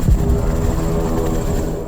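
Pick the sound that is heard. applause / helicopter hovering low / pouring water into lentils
helicopter hovering low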